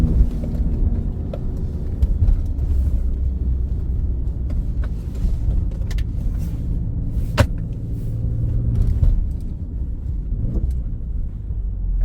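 An Alfa Romeo Stelvio Quadrifoglio engine in race mode rumbles loudly on its own, surging and revving with sharp manual shifts and pops, a deep throaty roar filling the whole stretch.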